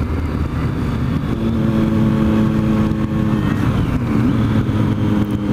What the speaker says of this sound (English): What a great little machine the street triple is for this lazy bimbling around country lanes